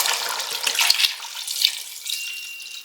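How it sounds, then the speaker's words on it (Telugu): About a litre of water poured into a pot of country chicken biryani, a close splashing pour with a couple of small knocks, alone and without talk. "ఇప్పుడు మనము ఇందులో ఇంకొక 1 లీటర్ నీళ్ళు యాడ్ చేసేసుకోవాలి."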